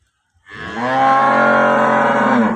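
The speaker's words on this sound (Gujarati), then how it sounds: "ગાય આવી છે પાછા વાર લાલ ગાય છે" A red cow, recently calved, gives one long, loud, close moo that starts after a brief silence and holds steady, with no voices.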